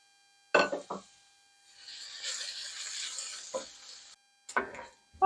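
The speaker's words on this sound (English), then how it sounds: "we're going to cook this bacon down until it gets nice and crispy, and then we're going to remove it from the pan" Bacon frying in a pan gives a steady, moderately loud sizzle for about two seconds, with sharp knocks and scrapes from handling the pan before and after.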